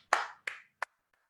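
A few hand claps in applause, three sharp bursts and a faint fourth, close and loud, with no voices.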